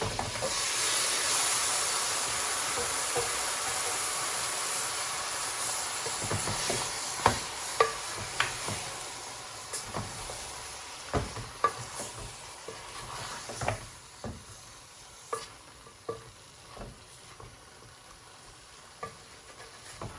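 Meat sizzles steadily in a hot pan for a Bengali lamb curry, a continuous frying hiss broken by repeated sharp scrapes and clacks of stirring.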